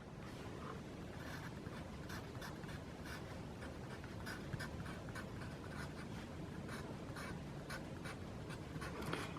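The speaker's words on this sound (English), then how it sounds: "let's write that down so you can see it" A pen scratches steadily across paper while a math problem is written out, a soft, continuous near scribbling with brief strokes and taps and no talking.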